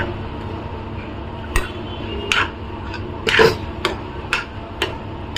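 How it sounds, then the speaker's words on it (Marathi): A metal spoon knocks against a pan of vegetable curry cooking on a medium flame, giving about seven sharp, separate clinks at uneven intervals over a low, steady kitchen hum. "आपण एकदा चमचा मारून बघूया आता"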